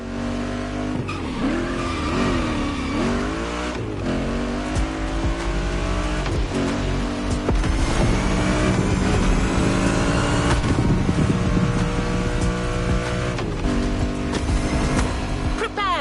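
Race cars tear through night city streets of Honolulu in The Crew Motorfest, modded customs revving and skidding with tire squeal, a loud continuous engine roar under speech throughout.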